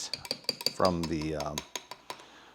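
A metal spoon clinks repeatedly against a jar while stirring separated, oily tahini, with rhythmic taps and scrapes; a brief tonal squeal of utensil on glass rises in the middle.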